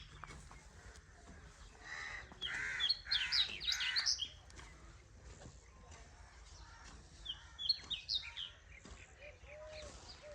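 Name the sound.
small bird singing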